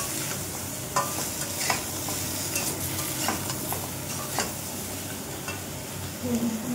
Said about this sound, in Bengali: আমি হালকা তেলে সবজিটাও দিয়ে দিলাম। সবজিটা একটু কষিয়ে নিই।